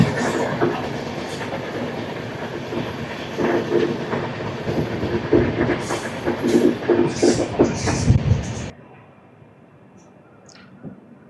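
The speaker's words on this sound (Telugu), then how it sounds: "పాకాల జంక్షన్లో ధర్మవరం నుంచి నర్సాపూర్ వరకు వెళ్ళే ట్రైన్ అయితే ఉంది" A passenger train at Pakala Junction rumbling and clattering along the rails, loud and close with rising rhythmic clacks, then cutting abruptly to near quiet after about eight seconds.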